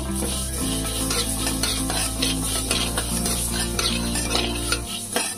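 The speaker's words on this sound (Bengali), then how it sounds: "আরও 2-3 মিনিট মতো এটাকে আমি ড্রাই রোস্ট করে নেব" Fenugreek seeds, cumin and whole garam masala dry-roasting in a pan for pickle spice, with continuous scraping and stirring, light sizzle and clinks of a spoon against metal, near and fairly loud with no talking.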